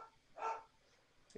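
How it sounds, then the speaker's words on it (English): A dog in a video game gives a single faint, short bark, followed by a tiny yip, quiet against a near-silent background. "curse you dogs. How much I loathe you."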